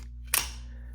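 A Recon-40 OTF knife fires its blade out with a single sharp, loud snap, near and alone over steady low background hum.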